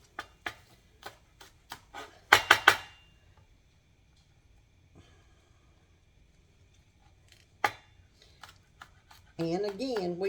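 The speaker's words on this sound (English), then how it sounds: "we'll chop these scallions" A knife chops scallions on a cutting board in a kitchen, with a run of sharp, evenly spaced taps followed by a quick burst of cuts, then a long near-silent stretch with a few more taps before a voice begins talking.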